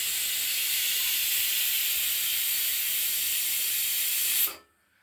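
A pressure cooker on the stove vents a steady, loud hiss of steam while boiling chopped banana flower, then cuts off abruptly near the end, leaving near silence.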